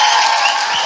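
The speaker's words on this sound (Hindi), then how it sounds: "या यीशु के लिए ताली बजाएंगे" A church audience bursts into applause for Jesus at a Christian sermon, a loud dense wash of clapping that continues throughout the short moment.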